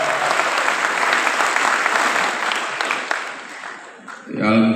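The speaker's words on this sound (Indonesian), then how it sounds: "Tepuk tangan dulu." A sustained burst of audience applause at an Indonesian political party gathering, dense clapping filling the hall for about four seconds before fading, with a voice briefly starting up at the end.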